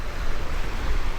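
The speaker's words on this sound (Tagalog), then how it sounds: "kasi dito guys mahangin" Strong wind blowing across Bulabog Beach on Boracay, a steady low rumbling roar with gusty buffeting on the microphone and no voices.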